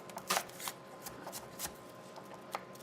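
Knife dicing onion into a fine dice on a cutting board, heard as a few quick, light chopping taps spaced irregularly over a quiet background.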